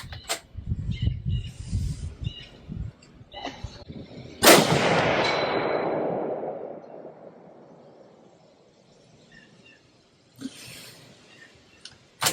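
A rifle shot cracks loudly on an outdoor range during 200-yard target shooting, with a long rolling echo decaying over several seconds; a second shot follows near the end.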